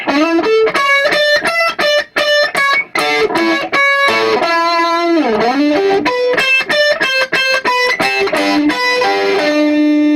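Loud distorted electric guitar plays a fast harmonized riff, doubled notes moving together in quick choppy phrases with brief gaps, no voices.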